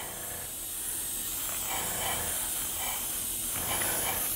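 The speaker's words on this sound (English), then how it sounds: "We're going to spray this again very lightly." Light spray paint hisses steadily from a can onto a 1:650 scale U.S.S. Enterprise starship model, a continuous close airy spray with slight swells over a few seconds.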